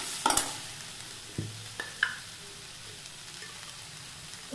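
Tomatoes go into a pan of fried onion, ginger, garlic and cashews, giving a soft close sizzle with a few scraping stirs and clinks of a spoon against the pan.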